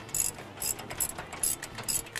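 A hand ratchet clicks in quick repeated bursts while loosely bolting the greased upper control arms onto a Dodge Ram 1500 during a suspension upgrade, sharp metallic ticks close by with short pauses between strokes.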